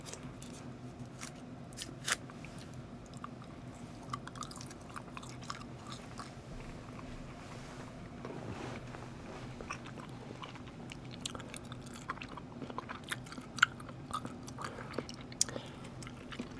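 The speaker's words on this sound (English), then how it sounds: "Let's go ahead and chew some gum." Someone chews gum close to the microphone in a quiet ASMR setting, with soft, repeated wet clicks and smacks over a low steady background, no talking.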